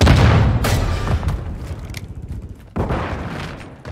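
A grenade explodes in Call of Duty, a heavy boom with a rumbling low tail that fades, then a second loud blast rolls in near the end, no talk over it.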